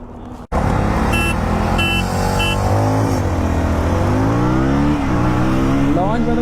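KTM Duke 160 and Royal Enfield Hunter 350 motorcycles launch hard side by side in a drag race, a loud, close engine roar rising steadily through the gears after a brief silence, with a voice speaking over it.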